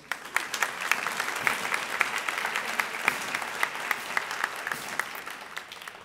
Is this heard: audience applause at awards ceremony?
yes